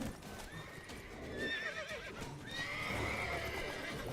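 Horse in The Witcher 3 video game neighing and whinnying loudly with steady clip-clop of hooves underneath, alongside game combat noise and shouted voices.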